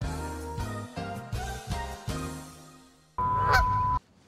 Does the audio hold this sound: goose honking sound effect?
yes